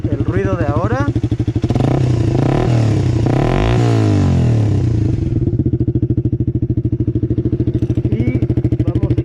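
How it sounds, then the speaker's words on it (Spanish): A Suzuki motorcycle idles with a loud, steady, throbbing engine rumble nearby on a street, revving up briefly and then settling back to idle, with a voice speaking over it at the start. "voy a dejar la cámara grabando por aquí para que escuchen más o menos cómo se oye al pasar la motocicleta"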